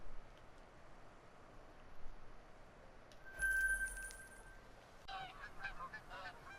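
A flock of snow geese honks in the distance during a hunt, with faint repeated calls, one louder burst midway and a busier chorus of honks toward the end.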